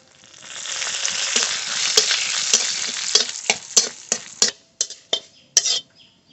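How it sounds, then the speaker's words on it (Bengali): Whole coriander, cumin and dried chili sizzle in a little oil in a wok, close by. A utensil stirs and scrapes through them, then the sizzle fades into sharp, separate scraping knocks, with no voices. "মশলাটা ভেজে নিয়েছি নামিয়ে নেব"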